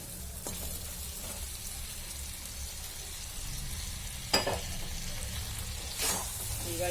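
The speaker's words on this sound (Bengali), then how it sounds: "এবার দিয়ে দেবো এই ভাজা চিকেনটা।" Fried chicken sizzles in masala for a Bihari chicken curry, a soft continuous frying hiss with a couple of brief stirring knocks, fairly quiet and close, with no talk.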